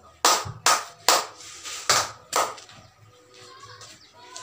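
Five sharp, evenly spaced claps ring out close and loud in a classroom, followed by quiet low background chatter.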